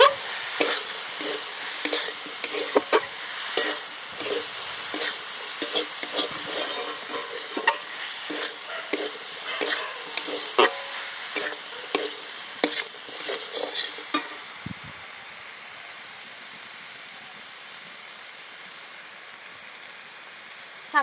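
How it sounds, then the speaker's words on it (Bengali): Spices being stir-fried (kosha) in a pan for a Bengali prawn and banana-flower ghonto, with steady sizzling and repeated scraping stirs for most of the time, then a quieter, softer simmering hiss toward the end. "সব মশলাগুলো দিয়ে খুব ভালো করে আমি কষিয়ে নিয়েছি।"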